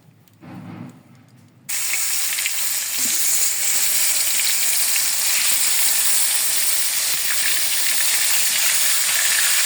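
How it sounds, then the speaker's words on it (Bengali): Fish sizzles as it fries in a wok, a loud, continuous crackling hiss starting abruptly after a brief quiet moment and holding steady to the end. "মাছ ভাজার জন্য কড়াই বসাই দিলাম।"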